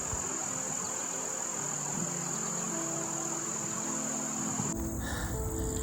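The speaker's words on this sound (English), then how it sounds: "Here I was surprised to find a cicada" A cicada's steady, high-pitched drone buzzes continuously throughout, shrill and unbroken, with faint rustling underneath and a brief change near the end, on a nature trail.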